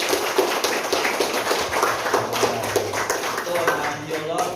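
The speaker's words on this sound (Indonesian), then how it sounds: "Oke, tepuk tangan buat Haikal." A classroom of students clapping for a classmate named Haikal, quick uneven hand claps going on steadily for a few seconds, close and fairly loud, with voices murmuring underneath.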